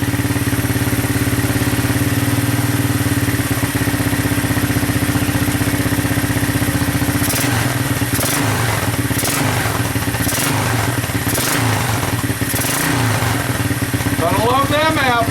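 A Honda 200SX two-stroke engine running just after a cold start, a steady close idle with a buzzing throb and a few revs toward the end, loud throughout.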